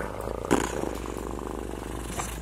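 A human voice imitates a cat's purr, a steady low rumbling drone lasting a couple of seconds with a brief louder swell near the start, close and fairly quiet, with no words.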